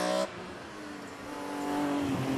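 A BMW M3 race car engine drones at a distance with a steady tonal whine that rises slowly in pitch as it accelerates, following a short louder burst at the start.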